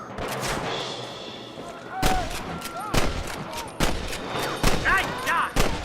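Rapid gunshots crack in Red Dead Redemption, a gunfight of sharp loud bangs in irregular bursts, with voices shouting between the shots.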